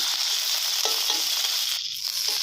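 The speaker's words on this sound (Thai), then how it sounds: "ผัดหอมใหญ่ให้เขาสุกนะครับ" Onion stir-fried in a pan for a Thai glass-noodle dish with naem sour pork, a steady close sizzle with occasional scraping stirs, continuous and fairly loud with no talking.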